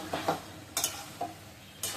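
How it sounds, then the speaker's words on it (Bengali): Food being sautéed hard over a high flame, heard as quiet bursts of sizzle and spatula scraping against the pan, about five short strokes spread across two seconds. "চুলার আঁচটা বাড়িয়ে দিয়ে কষিয়ে নেব, যতটা পারি ভালো করে কষিয়ে নেব।"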